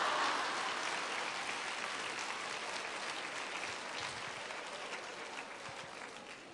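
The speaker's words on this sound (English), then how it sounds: "You're supposed to give me applause at this moment." An audience claps at a talk in Hawaii, a dense, sustained round of applause that slowly tapers off, with no speech over it.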